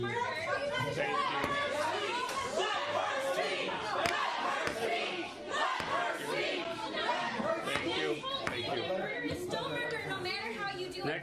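Crowd at a campus meeting, many voices chattering and calling out at once in a dense, continuous murmur with occasional louder shouts, laughs and thuds.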